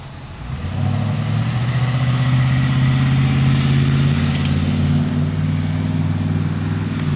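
A passing car's engine hums loud and close at a four-way stop, rising quickly and then holding a steady mid-pitched drone with no voices.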